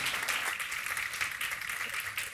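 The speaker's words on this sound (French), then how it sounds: "Merci à tous les quatre, on peut vous applaudir et vous remercier encore." Audience applause for a four-person debate panel at a digital-themed conference, a steady broadband wash of clapping held at an even, fairly quiet level throughout.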